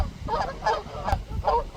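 Ducks honk and quack in a quick run of four or five loud, nasal calls by a pond crowded with hundreds of birds, close by and with no talk.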